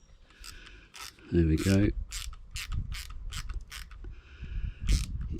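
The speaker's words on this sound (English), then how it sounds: "Tighten it as much as you dare without over tightening it and then ripping the thread off." Screw being tightened into a part during Yagi antenna assembly, giving close, repeated ratcheting clicks and creaks under brief talk.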